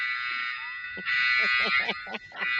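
A Lego alarm brick rings alone with a loud, steady buzzing tone, broken by several short, rapid pulses.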